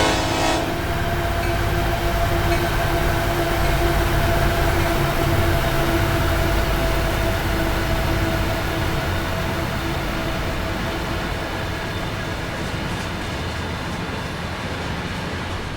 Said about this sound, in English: oh, here comes another train.